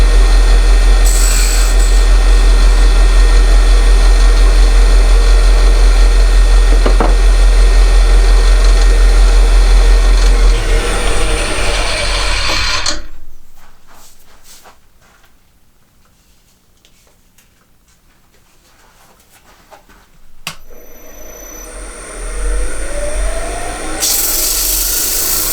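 A wooden box being turned on a lathe without tailstock support, with a loud steady whirring hum and light rasping cuts, then a quieter pause before the lathe spins back up, no speech.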